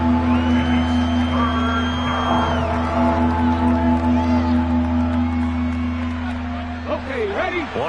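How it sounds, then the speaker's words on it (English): A football stadium crowd roars and whoops as a big third down approaches, a dense sustained wall of cheering with scattered yells and whistles that swells briefly near the end. "the crowd getting into it as we come up on a big third down"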